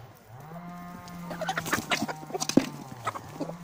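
Chickens clucking close by, a run of short, uneven clucks and squawks growing busier toward the end, while someone calls out to the birds.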